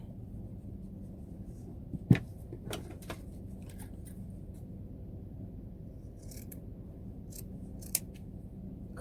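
Scissors cut a square of fabric for a mask with a few soft, close snips, one sharper cut near the start and a lighter one later, against a quiet background.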